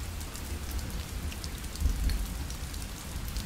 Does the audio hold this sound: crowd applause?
no